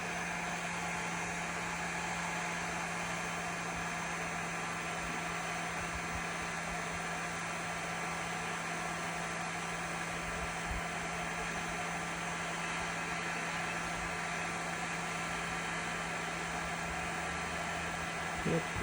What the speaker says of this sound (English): I'm going to use a heat gun to heat this one